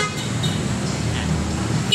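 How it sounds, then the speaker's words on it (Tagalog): The stock horn of an Easyride ADV 175 motorcycle sounds as a steady, moderately loud toot, held for about two seconds close to the bike. "Tapos busina sir, stock horn."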